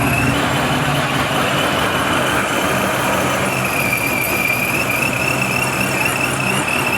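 An LS1 V8-swapped Mazda RX8 runs at a drag racing event, a loud, continuous engine drone with a high whine on top, heard up close.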